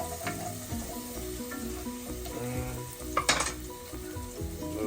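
Garlic sizzles and fries in a hot pan for clams in white wine sauce, a steady crackle with stirring and a sharp clatter of utensil against pan near the end.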